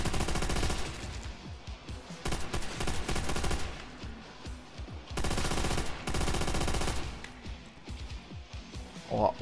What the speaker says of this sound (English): When all else fails, pull up the machine gun.